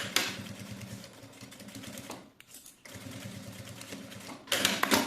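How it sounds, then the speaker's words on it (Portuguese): A sewing machine stitches over an existing seam on a zippered fabric case, its needle clattering in a quick steady rhythm with a brief pause midway before it resumes. "faço a costura em cima dessa costura que nós acabamos de fazer"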